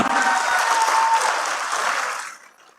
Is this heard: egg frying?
no